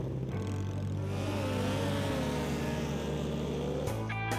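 A Banshee race bike engine revs loudly during an AMA motocross race, a steady buzzing drone with the pitch stepping up and down as the throttle changes, close and alone without talk.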